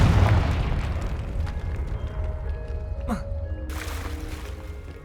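A Confringo spell explosion in the Hogwarts Legacy video game, a loud booming blast with a rumbling tail that slowly fades, followed by faint crackles and scattered magical tones.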